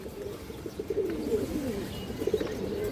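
A pair of large Bagha pigeons coo in a low, rolling, continuous burble close by, with no talking.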